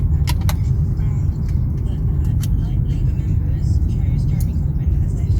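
A car carrying a passenger to a hotel runs with a steady, loud low engine and road rumble from inside the cabin, with faint jingling clicks over it.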